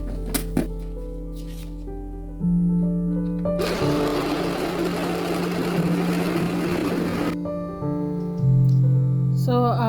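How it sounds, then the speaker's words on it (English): A kitchen blender whirs loudly for several seconds as it blends onions and ginger, then cuts off. The start and end are marked by clicks and other kitchen sounds. "Now let's blend our onions and ginger."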